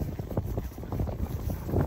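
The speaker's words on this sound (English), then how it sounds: "It's windy." Gusty wind buffets the microphone outdoors at a quail hunting preserve, a continuous low roar that swells and dips for the whole moment with no other clear sound.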